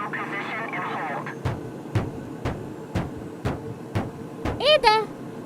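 An airplane cabin shaking through air turbulence gives sharp, evenly spaced knocks over a steady rumble. Voices talk underneath at the start, and a high squealing voice cries out near the end.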